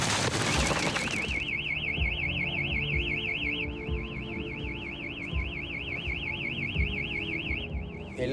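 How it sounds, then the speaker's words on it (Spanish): A grey car's alarm parked outside starts after a brief loud burst, then warbles in a rapid, steady up-and-down siren pattern for the rest of the clip, moderately distant. "Suena una alarma."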